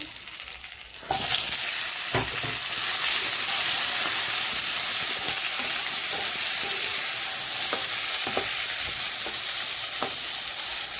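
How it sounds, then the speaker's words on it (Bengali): Onions fry loudly in hot oil for a bhetki fish curry with potato and pointed gourd, a dense continuous sizzle broken by repeated scraping stirs of a spatula, without any talking. "পেঁয়াজ ভাজা হয়ে গেছে।"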